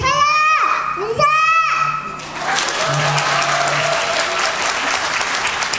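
Audience applause at a children's recital breaks out loud and dense after a child's sung or spoken phrases, a steady wash of clapping that fills the room and continues to the end.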